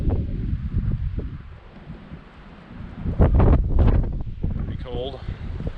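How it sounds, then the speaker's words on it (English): Gusty wind buffets the microphone in rough, swelling rumbles on a high, cold, snowy mountain point along an ATV trail, easing briefly before a stronger blast returns. "It got windy."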